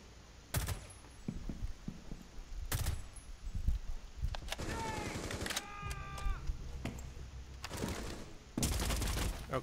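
Gunfire in Rainbow Six Siege as a player shoots bullet holes at Hereford Base: several sharp, loud single shots spaced apart, with a burst of rapid metallic clatter and rattling in between.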